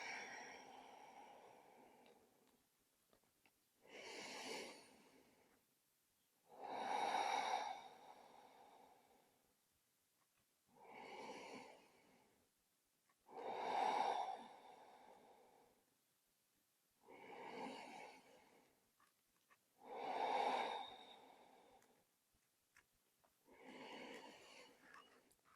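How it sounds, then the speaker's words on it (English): Slow, deep breathing during a yoga stretch practice, close and fairly soft, with long airy inhales and exhales recurring every few seconds and quiet pauses between them. "Breathing nice and slowly. Inhale, fill the body with air. Exhale, let it go."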